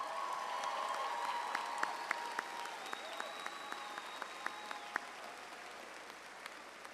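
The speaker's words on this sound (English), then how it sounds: "Let's give these students a big round of applause" A graduation audience at Lamar Consolidated High School applauds its students in a steady, dense wash of clapping that fills the hall, with a few sharper claps and whistles standing out.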